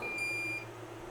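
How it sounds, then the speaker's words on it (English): A Longer Ray 5 laser engraver gives a single short, thin electronic beep as it powers on, faint and lasting about half a second over a low room hum. "And we'll turn this on. I've got my focus set."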